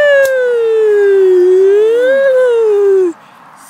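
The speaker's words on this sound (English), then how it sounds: "The siren's gone off." A single loud, wavering siren in a video game wails alone, its pitch sliding down and rising slightly before cutting off abruptly.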